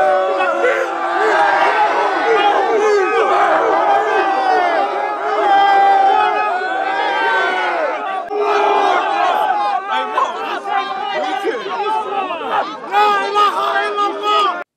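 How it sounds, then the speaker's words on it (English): A large protest crowd yelling and chanting together, loud and sustained, with many overlapping voices rising and falling throughout. "Towards evening, a large crowd formed and began yelling."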